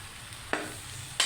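Spoon mixing okra into fried onions in a pan, a low sizzle with two sharp scraping strokes against the pan, close and brief.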